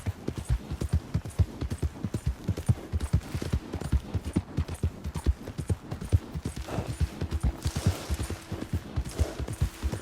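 Horse hooves in Red Dead Redemption 2 gallop close and loud in a fast, steady rhythm, with a faint rumble of distant gunfire under them.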